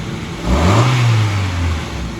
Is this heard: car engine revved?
yes